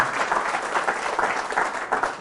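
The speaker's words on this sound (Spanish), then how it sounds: "Fuerte el aplauso al Señor por su amor y su misericordia." A church congregation at a retreat on a farm applauds steadily, dense continuous clapping filling the whole stretch at even loudness with no talk over it.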